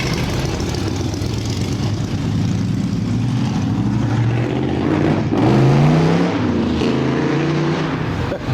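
Hot rod nicknamed the Super Rat pulling out with a loud, steady engine racket, its revs swelling mid-pass amid surrounding car noise at an outdoor rod run.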